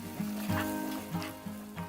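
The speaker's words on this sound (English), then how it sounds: "Now mix it well." Pizza sauce seasoned with oregano, basil leaf and salt being stirred in a pan, giving a moderate sizzle with a few soft stirring strokes and a steady tonal hum in the background.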